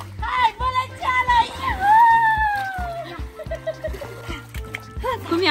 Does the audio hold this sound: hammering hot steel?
no